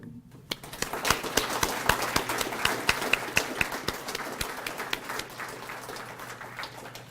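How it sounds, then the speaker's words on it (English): Audience at a credit union annual general meeting breaking into a round of applause, dense sustained clapping from many hands with sharp individual claps, starting abruptly and fading slightly toward the end. "Let's give a big round of applause for our staff for volunteering and being an integral part of our communities."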